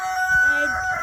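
A tan farm chicken crows and clucks close by in one loud, drawn-out call lasting about a second, with no talking.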